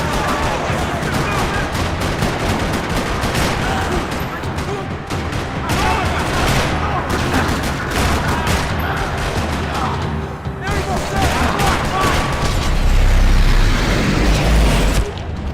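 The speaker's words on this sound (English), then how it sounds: "Another parking lot rattling with gunfire." Dense, continuous Max Payne 3 gunfire rattles loudly throughout a parking lot shootout, sustained volleys with a heavier booming surge near the end.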